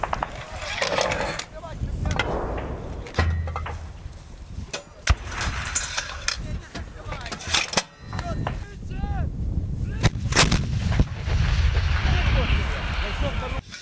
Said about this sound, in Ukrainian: Батарея має єдину ціль для ураження, тож усі снаряди повинні лягти в одну й ту саму точку – так званий котел.